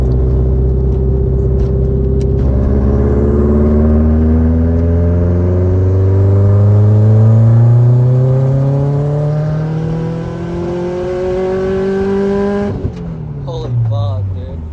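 A built Subaru STI engine with a freshly installed 20G turbo runs loud and close, its harmonics sweeping up and down as it is revved and then settling, before cutting out near the end.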